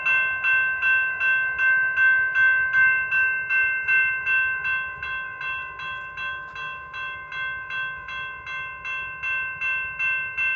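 Amtrak passenger train passing a railroad crossing where the gates are down, heard as a steady rhythmic pulse of rail cars rolling by at a slow pace over about ten seconds while a bright tonal ringing holds on throughout, with no voices.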